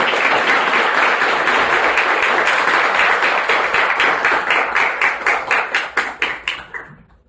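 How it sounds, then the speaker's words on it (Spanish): An audience at a lecture hall conference breaks into loud, close applause to welcome a guest speaker; the dense clapping holds steady, then thins into scattered individual claps before stopping. "Fuerte el aplauso, por favor"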